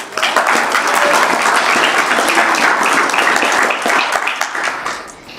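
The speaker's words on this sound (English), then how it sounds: "So let's give a round of applause for Christina." An audience at a sanitation innovation convening applauds loudly and continuously for several seconds before the clapping tapers off near the end.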